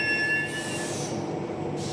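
An express train rushes through Oats Street Station without stopping, a steady roaring rumble and a high metallic squeal that fades as it goes by.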